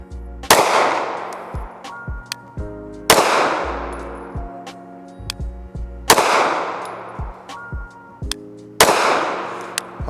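Four loud pistol gunshots, from an ARex 01 or Sig P226, crack one at a time about two to three seconds apart, each ringing out and decaying, with small clicks in between.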